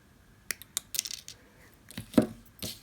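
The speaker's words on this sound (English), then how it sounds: "So I'm just going to trim that." Small wire being trimmed for a handmade talisman, heard as a few sharp metallic clicks and snips at close range, spaced irregularly over a quiet background without talk.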